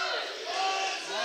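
Fight fans roar and shout at a Russian fight show during a technical break: a loud, dense crowd din filling the whole moment without clear speech.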